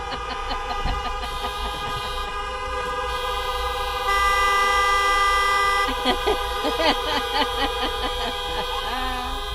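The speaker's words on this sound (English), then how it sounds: "they just get on their horns, and once one's beeping, they're all beeping" Many car horns honk at a busy border crossing, overlapping steady toots and beeps that build into a loud chorus of blasts in the second half, with traffic noise and some voices underneath.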